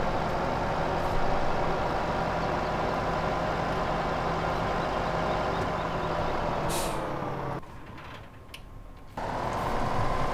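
Tractor engine in Farming Simulator 2015, a steady droning hum with a faint whine, briefly cutting out near the end before resuming.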